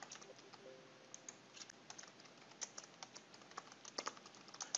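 Steady keyboard typing, close and crisp, with rapid irregular keystrokes running throughout and a few sharper taps, no talking.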